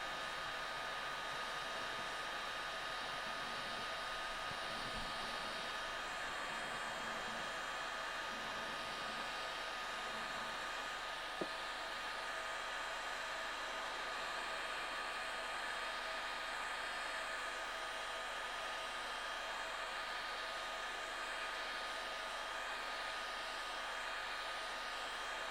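Heat gun blowing a steady, even hot-air roar for the whole stretch while warming old vinyl graphics on the hull of a Westerly Centaur sailboat, with one brief click partway through.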